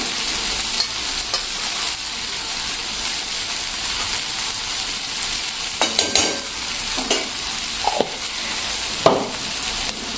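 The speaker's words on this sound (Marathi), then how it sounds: "परत एकदा छान एक मिनिटभर भाजून घ्यायचा" Crushed peanut powder is stirred and roasted in a pan, with a steady dry sizzle under repeated scraping strokes of a spoon. Occasional louder scrapes stand out, close up and with no voices.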